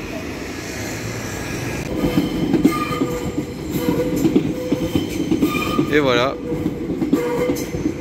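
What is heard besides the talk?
trains at Gare Saint-Lazare, Paris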